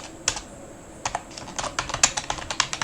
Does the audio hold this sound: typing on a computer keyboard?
yes